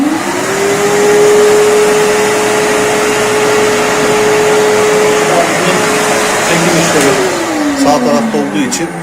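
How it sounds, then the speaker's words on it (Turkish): A wet-dry electric vacuum cleaner at a construction site runs loud and steady with a high whine, then the pitch drops as it winds down near the end. "Makinemiz çalıştığında süpürgemiz vakum etmeye başlayacak."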